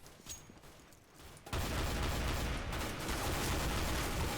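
Shotgun gunfire from Counter-Strike erupts as a dense, loud burst of shots and explosions about a second and a half in, after quieter game noise, and the heavy firing continues to the end.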